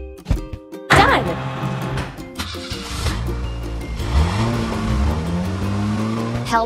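A cartoon car in a mobile truck-and-tractor construction game starts up and drives, its engine revving and whining upward in pitch over a backdrop of game music and sound effects.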